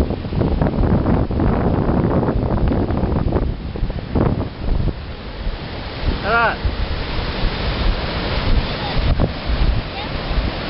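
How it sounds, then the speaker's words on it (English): Strong ocean waves crash and surge along a Bali shore, a loud continuous roar heavily buffeted by wind noise on the microphone, with brief voices mixed in now and then. "very very strong waves, very very strong waves"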